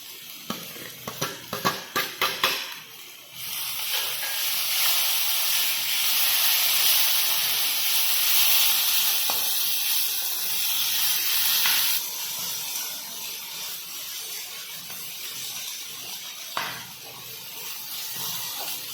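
Potato and cucumber pieces frying in a pan for sabudana khichdi give a loud, steady hiss and sizzle. A burst of crackling comes first, then it settles into a continuous spitting that fades slightly toward the end, with no talking.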